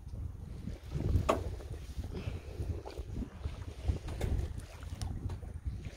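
A sailboat glides under sail with its motor switched off in light wind, giving a steady wash of water and rushing wind noise against the microphone, with no engine hum.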